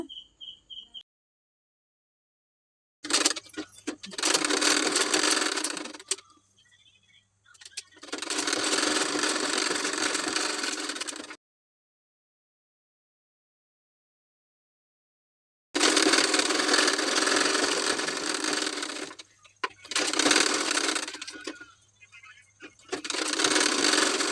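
A sewing machine runs in several long bursts while stitching lining onto the hook and eye strips of a princess-cut blouse, with short pauses between runs and a longer silent gap in the middle.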